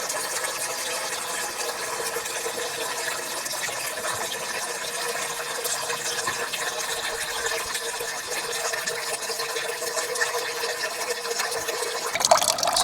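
Water drains from a camper tank through a tap into a bucket, a steady continuous splashing trickle throughout with a brief clunk near the end.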